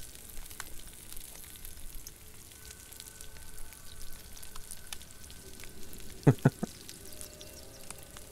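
Food roasts over a campfire in the video game DayZ, giving a faint, soft crackling sizzle at a low level, with a few brief clicks near the end.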